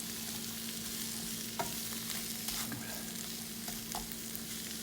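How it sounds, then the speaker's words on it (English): Onions saute in a skillet with a steady, close sizzle, broken by a few soft stirring clicks and scrapes, and no one speaks. "So I'm gonna let these saute up for a little bit."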